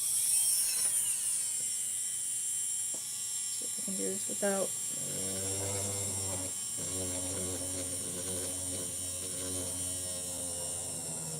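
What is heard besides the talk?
small electric drill running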